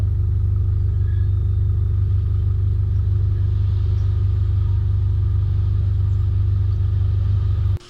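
Mitsubishi Pajero Gen 4 driving off-road up a creek road in the Watagans: a loud, steady low engine rumble close to the microphone, running throughout with no talk, then cutting off abruptly at the end.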